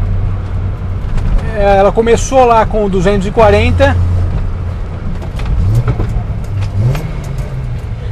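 Datsun 240Z engine rumbling steadily while driving, a low smooth drone under a voice, with a slight rise in pitch toward the end.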